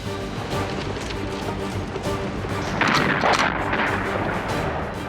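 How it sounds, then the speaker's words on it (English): Heavy mortar, sniper and machine gun fire in a World War 2 Pacific battle, a dense and continuous din of blasts and gunfire that swells louder midway. "the Japanese unleash heavy mortar, sniper, and machine gun fire."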